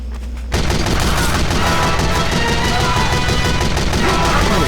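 Team Fortress 2 gameplay as the Heavy: after a brief quiet start, loud continuous rapid machine-gun fire hammers on without a break for several seconds, dense and close.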